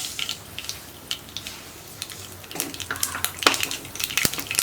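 Mustard seeds spluttering in hot coconut oil in a pan, irregular crackling pops and sizzling, close and moderately loud, growing busier toward the end.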